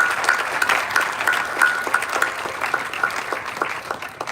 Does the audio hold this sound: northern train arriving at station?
no